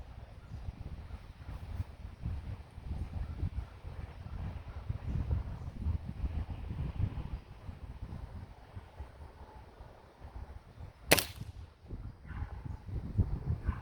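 A Crosman F4 pellet rifle fires a single sharp, loud crack outdoors while a scope is sighted in, standing out against a long stretch of low, gusty wind rumble.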